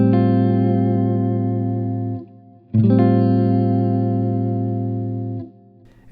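Electric guitar with distortion, chorus and echo effects strums an F mu chord twice, each chord ringing out long and fading before a short gap, close and loud with no talking.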